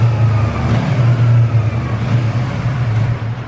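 A Yamaha MT-03 motorcycle engine drones loudly and steadily on a dynamometer, its low hum holding throughout and easing slightly at the very end as it is shut down.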